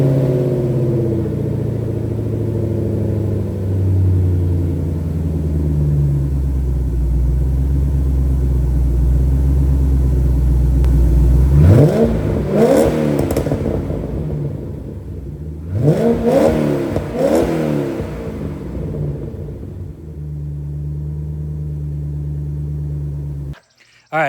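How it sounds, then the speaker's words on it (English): A Corvette C4 ZR-1 fitted with new, quieter mufflers idles with a steady, deep exhaust rumble, then revs sharply twice in quick bursts before settling back to idle, close to the car. "So those right there were the new mufflers with the new design. You can tell they're a little bit quieter."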